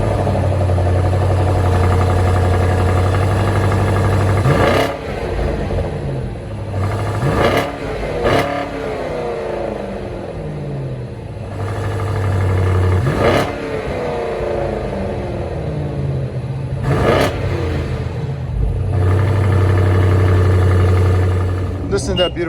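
A 2020 BMW M850i Gran Coupe's 4.4-litre V8 of about 523 horsepower, loud and close, idling with a deep burble between several sharp throttle blips that rise and fall quickly.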